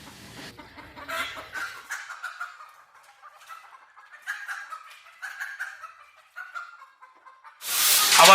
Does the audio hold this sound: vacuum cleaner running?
no